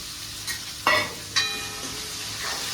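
Chopped vegetables and cumin sizzle in a hot pan, with a steady frying hiss and a few close scrapes and clinks of a stirring utensil.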